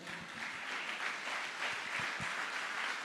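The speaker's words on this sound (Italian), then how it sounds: "un applauso a tutta la squadra di Sardegna Live" At the Premio Sardegna Live 2018 awards event, an audience claps for the organizing team, a fairly quiet, steady wash of crowd applause with a few louder individual claps near the end.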